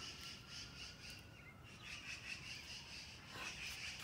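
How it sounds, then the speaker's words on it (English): Small birds chirp and tweet faintly through steady background hiss in an outdoor home garden with flowers and a vegetable plot, the calls scattered and distant with no talking. "All the birds are hungry."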